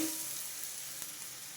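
Bitter gourd pieces frying with onions in a pan hiss in a steady, even sizzle, close and continuous throughout with no voices.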